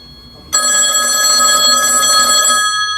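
A telephone ringback tone starts abruptly after a short quiet gap and holds as a loud, steady ringing signal to the end.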